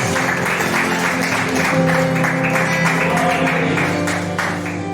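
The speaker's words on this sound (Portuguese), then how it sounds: "Quantos podem aplaudir a Deus por esta palavra?" A church congregation claps in praise of God, the applause mixed with sustained instrumental music that plays steadily underneath at a fairly loud level.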